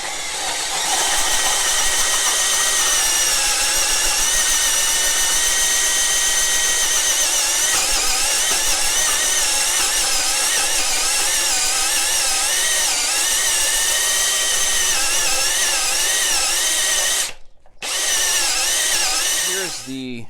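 A power drill turns a Bosch Daredevil hole saw through wood with a loud, sustained whining grind that wavers in pitch, cuts off abruptly near the end, then resumes.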